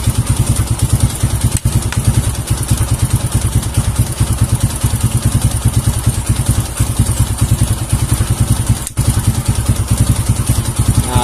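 A carbureted Kawasaki KLX 150 motorcycle engine idles loudly and close up, its rapid even firing pulses steady throughout, alone with no talking.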